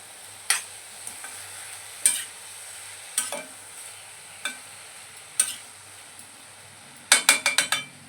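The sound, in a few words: stirring tomatoes in a pan with a ladle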